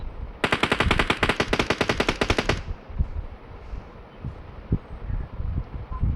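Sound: gunfire from video game BGMI

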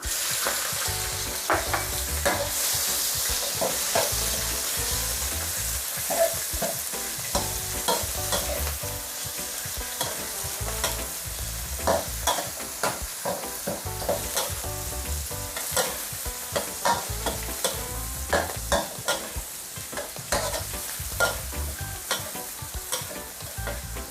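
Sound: shrimp frying with garlic in a wok

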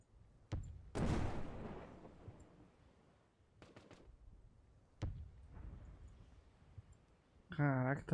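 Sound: explosions in a video game

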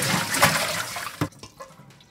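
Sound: water washing pig's trotters with a cup

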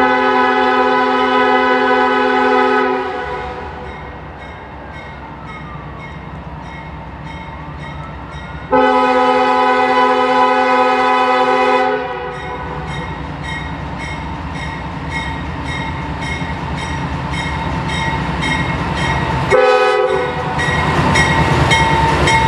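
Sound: CSX freight train passing with horn

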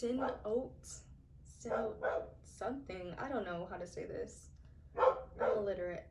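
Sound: dogs barking

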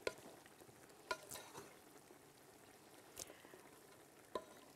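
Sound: stirring basmati rice in a pot

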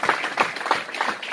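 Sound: church congregation applauding

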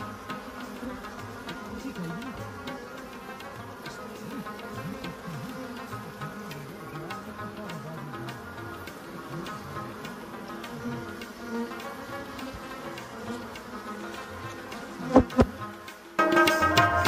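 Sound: bees buzzing during wild honey harvesting

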